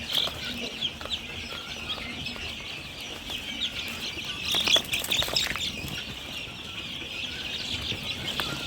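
Chicks and chickens of various breeds at a poultry farm, with a steady high chorus of chick peeping, occasional louder clucks and a brief flurry of activity near the middle.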